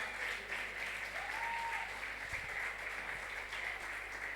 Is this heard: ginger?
no